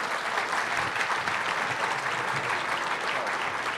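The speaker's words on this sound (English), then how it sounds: "Let's have a big round of applause for all of our panelists" An audience at a legislative breakfast claps for a panel, a sustained, even wash of applause from a roomful of people lasting throughout without any speech.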